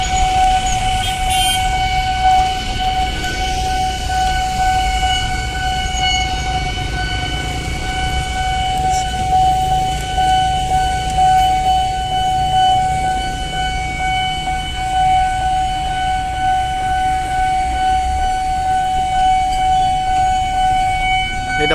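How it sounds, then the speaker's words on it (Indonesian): A parcel train pulls into an Indonesian station through a busy, traffic-jammed area, bringing a steady loud rumble, a sustained high whistle-like tone and a brief horn early on, all continuous for the full stretch. "Nah, ini akhirnya kereta parcel masuk."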